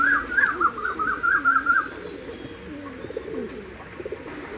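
A male pigeon of a black breed coos nearby in a run of throaty, warbling calls over the first couple of seconds, then softer murmuring coos follow against a quiet backdrop.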